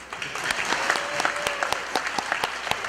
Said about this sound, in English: round of applause for good balance